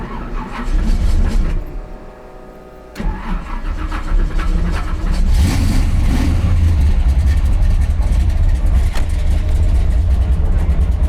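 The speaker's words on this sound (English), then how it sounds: "Do a burnout." A 1967 Pontiac Firebird barn-find muscle car on new tires roars into a burnout, its engine rising from a brief lull into a sustained loud, heavy revving that holds steady to the end.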